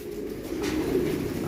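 Pigeons being fed coo softly in a low, continuous murmur, close by, with no talking.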